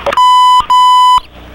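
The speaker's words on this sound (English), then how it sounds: "I don't know what that double beep was." Answering machine emitting a double beep: two loud, steady electronic tones of equal pitch, each about half a second long, separated by a short gap, with no voices over them.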